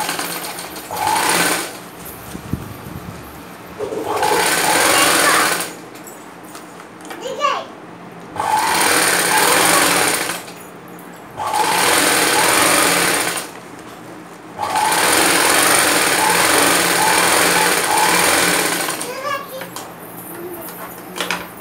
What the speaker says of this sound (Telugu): కుట్టు మీద ఇలా లైన్ వచ్చేటట్టు వేసుకోవాలి స్టిచ్చింగ్